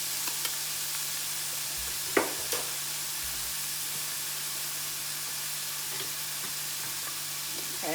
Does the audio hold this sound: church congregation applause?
no